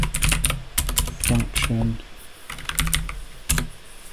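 Rapid bursts of clicking keystrokes on a computer keyboard as a name is entered, several quick clusters separated by short pauses, with someone speaking over part of it.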